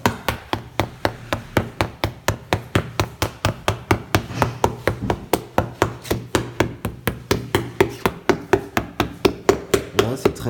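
A hammer taps rubber horse stall mat tiles together like puzzle pieces, giving a rapid, steady series of sharp, close knocks, about four per second, continuing for the whole stretch with no talking.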